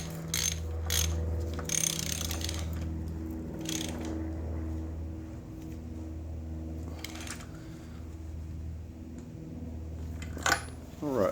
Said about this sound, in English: I'm just using one of my deep sockets to snug it up